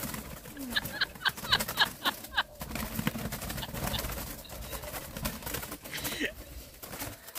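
Spotted doves in a pen, with bursts of wing flapping and low cooing mixed with scuffling and a person talking nearby.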